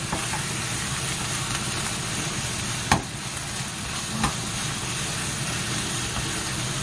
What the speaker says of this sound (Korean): 자, 이렇게 열이 올라갔으면 고기를 넣고